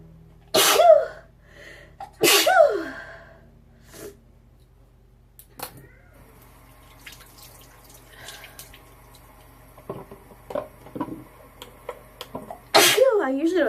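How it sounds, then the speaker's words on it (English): Sneezes during a makeup session at home: two loud, close sneezes in quick succession near the start, then faint rustling and handling, with another sharp sneeze at the end. "Why am I sneezing so much?"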